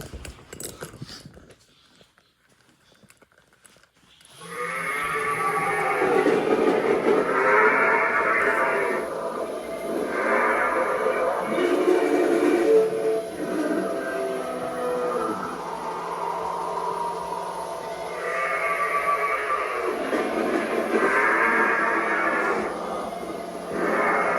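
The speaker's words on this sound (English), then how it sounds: "He's got one audio track, which is just like goat sounds" Goat bleating from the single audio track of a Tekky Contamination Kid animatronic toy, played through a small speaker: loud, drawn-out nasal calls repeating in a steady cycle after a quiet start.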